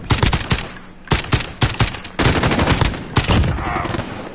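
FAL battle rifle fire in Call of Duty, rapid sharp gunshot bursts in several strings separated by brief pauses, loud and up front with no talk over it.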